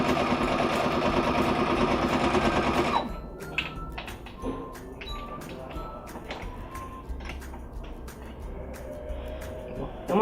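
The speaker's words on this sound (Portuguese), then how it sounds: "Então aqui eu vou começar a costurar" A sewing machine stitches the crown of a hat, buzzing loud and steady for about three seconds before stopping, followed by quiet handling taps and small clicks.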